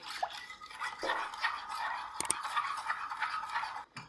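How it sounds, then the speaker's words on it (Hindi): A spoon is stirred steadily through milk with carrot and custard powder for a carrot dessert, giving continuous close scraping and faint liquid swishing with small clinks against the pan, without any talking. "इसको बीच में ना चम्मच को चलाते रहेंगे।"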